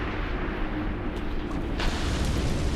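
A dense roaring, rumbling burst like a fiery eruption from a fire flare-up in Dungeon Siege 3, continuous and loud throughout with a few crackling flares near the middle.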